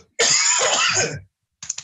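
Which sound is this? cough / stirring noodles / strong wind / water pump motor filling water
cough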